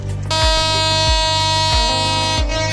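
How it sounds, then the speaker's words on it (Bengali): A loud, sustained train whistle with a rich stack of steady tones at Chittagong railway station, held continuously with low rhythmic thumps repeating beneath it. "ওই ট্রেনের হুইসেল তো শুনেছেন ট্রেন আসতেছে"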